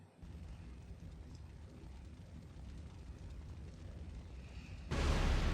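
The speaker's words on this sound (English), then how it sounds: "jump out of an exploding building" A building explodes in the video game Resident Evil 3: Nemesis: a steady low rumbling roar of fire and debris that ends in a sudden, much louder blast.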